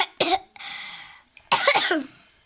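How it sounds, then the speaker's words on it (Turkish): Two harsh, close coughs with a breathy, rasping sound between them, loud and clear with no talking. "yine öksürdüm"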